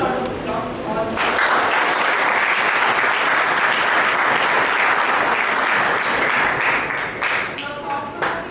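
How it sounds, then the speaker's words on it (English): An audience at an HR conclave breaks into loud, sustained applause that fills the room for several seconds, with a voice briefly audible at the start and as the clapping tapers off. "A huge round of applause to all of you"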